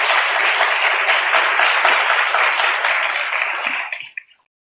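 A church congregation at a Sunday worship service breaks into dense, loud applause that holds steady for about four seconds, then tapers off quickly into silence.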